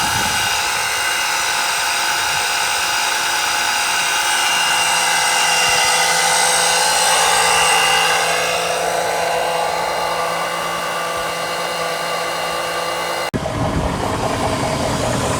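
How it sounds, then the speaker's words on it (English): A 2002 Range Rover L322 engine running, a steady loud whirring hum with high whine, constant throughout, heard up close and alone until a sudden change near the end. "So I have put literally as much as I can in there with the engine running."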